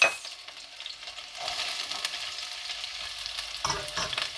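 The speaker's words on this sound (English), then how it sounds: "So I'm gonna tip in the onions, fry the onions." Onions frying in oil with bay leaves in a saucepan, a soft sizzle that swells after a moment and carries on with stirring, quiet and close.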